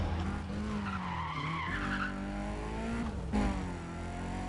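Car skidding through a handbrake spin in the Need for Speed Undercover racing game, a continuous tire and engine roar with shifting pitch, loud and close, the engine note rising and falling over about four seconds.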